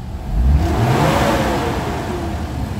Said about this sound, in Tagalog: ito guys, gagalitin natin yung makina